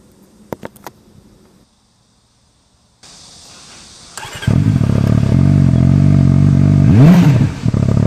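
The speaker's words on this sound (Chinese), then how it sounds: "最后咱们来听一个这个4缸的声浪" A CFMoto 500SR four-cylinder motorcycle gives a few clicks, falls briefly silent, then starts up into a loud, steady idle. There is one sharp rev blip near the end before it settles back.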